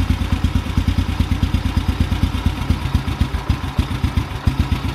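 A motorcycle engine idles roughly while the carburetor idle mixture is turned in for an idle-drop adjustment, a close, loping chug of rapid uneven beats that stays running throughout.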